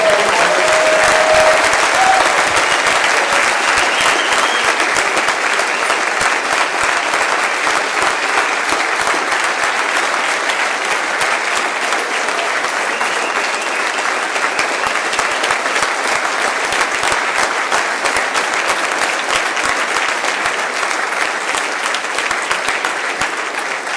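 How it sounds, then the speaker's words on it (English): A large crowd at a Utah Utes football event gives the head coach a sustained round of applause, dense and loud clapping that holds steady for the full stretch with only slight easing near the end. "One more big round of applause for the head coach."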